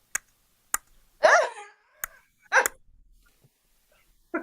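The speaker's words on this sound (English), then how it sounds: "that's my dog." A dog gives two short, sharp barks close to the microphone in a quiet indoor radio studio, with a few scattered clicks and taps between them.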